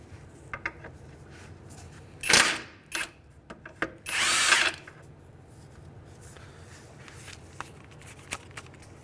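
Impact wrench loosening the 19 mm ball joint nut on a 2003-2011 Honda Element, heard as two short, loud bursts of whirring hammering separated by a brief pause, with faint clinks of tools around them.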